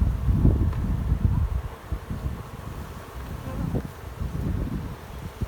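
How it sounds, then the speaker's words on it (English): A small swarm of honey bees on new comb in hive boxes gives a dense, steady buzzing close by, with no talking over it. "This is not a very big swarm."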